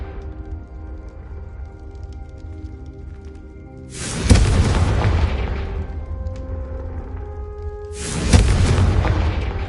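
Confringo fire spell explosions in the video game Hogwarts Legacy: two loud booming blasts about four seconds apart, each with a sharp onset and a rumbling decay over a low hum.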